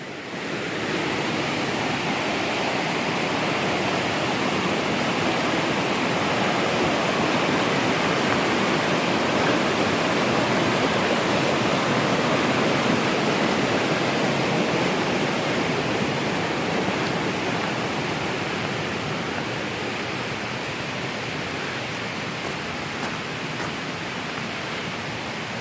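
A rushing mountain stream at Smokemont in Great Smoky Mountains National Park roars in a steady, loud, close wash of white water, with no voices.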